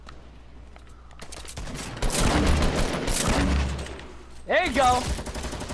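A minigun fires in a 50v50 online shooter: a long, dense roar of rapid fire that swells and stays loud, with game effects near the end and a player speaking briefly over it.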